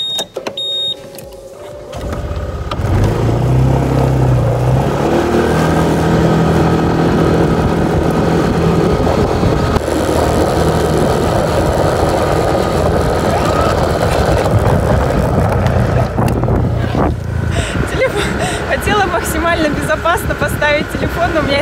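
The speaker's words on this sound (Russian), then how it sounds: "Ну что, прокатилась на байке?" A motorbike engine runs in the tropics, a loud steady drone that rises after a quiet start and continues for about twenty seconds, with a voice heard over it.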